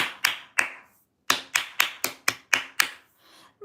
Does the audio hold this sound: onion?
no